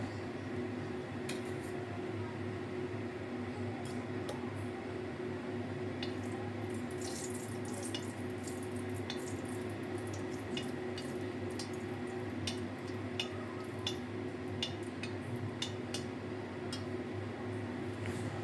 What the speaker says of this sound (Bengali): শুকনো লঙ্কাটা একটু ভাজা ভাজা হতে দেবো